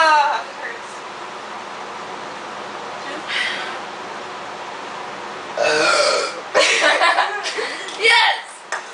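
Loud burps during a burping contest, several long rasping bursts toward the end, with people talking and chuckling around them.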